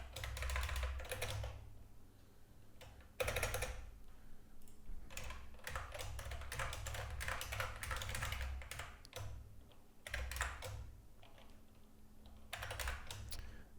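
Steady computer-keyboard typing with dense, irregular key clicks and short bursts, close and fairly loud throughout, with brief pauses and no talk.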